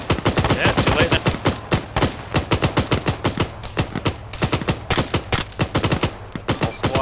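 Rapid bursts of video game gunfire crack out in dense, rhythmic volleys, sharp repeated shots filling the whole stretch, loud and close with brief pauses between strings of fire.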